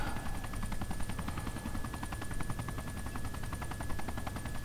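A pursuing helicopter in Arma 2 keeps up a constant rotor beat and whining turbine drone, loud and unbroken throughout, with possible faint gunfire mixed in and no speech.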